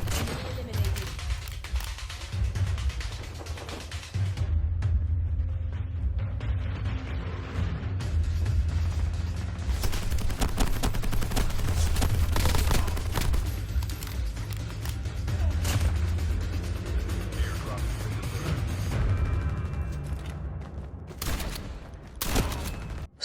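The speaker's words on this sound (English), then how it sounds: "I noticed that there's a gunshot from behind." Gunfire in the Call of Duty Mobile game rattles in dense bursts and scattered shots against loud, continuous game sound effects. Mechanical clatter runs through it, with brief quieter gaps.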